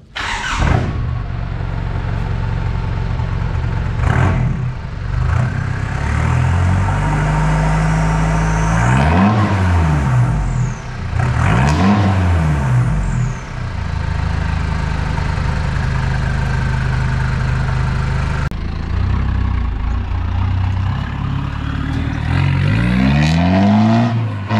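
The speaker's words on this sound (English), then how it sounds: "So the twin dump exhaust for the little Rodeo is done." A 2.8 turbo-diesel Holden Rodeo with a twin 3-inch dump exhaust revs repeatedly, each blip rising and falling in pitch over a steady idle, loud and close, with no talking.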